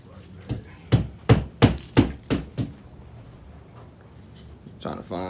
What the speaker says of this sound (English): Trying to find studs for this monster here